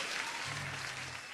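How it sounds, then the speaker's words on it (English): A brief, faint burst of steady clapping from a group, lasting just over a second over a low background hum. "Huge applause. Huge applause."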